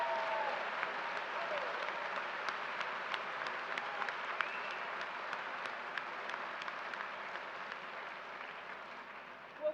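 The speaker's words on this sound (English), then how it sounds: "Let's give them a round of applause." A commencement audience in a university arena applauds, a steady, moderately distant roar of many hands with individual sharp claps poking through, continuing evenly throughout.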